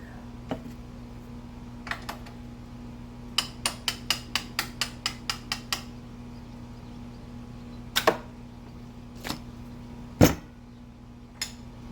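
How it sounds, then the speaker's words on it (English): Metal tapping drives the foot peg pin out of a KTM 500 EXC-F dirt bike, a few scattered taps and then a quick run of about ten evenly spaced sharp strikes, followed by a few heavier isolated hits over a steady low hum, close and clear with no talking. "Just tap it out."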